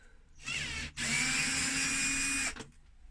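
A power drill backs the base screws out of a Sony SLC5UB, giving two close, loud whirring runs with a short gap between them and rising whine in the second burst.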